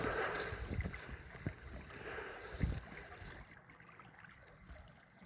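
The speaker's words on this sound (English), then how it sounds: "I can hear that water running directly in front of me here" A winter river in South Dakota runs close by in a steady gurgling rush, with a few soft knocks and splashes and the flow easing slightly toward the end.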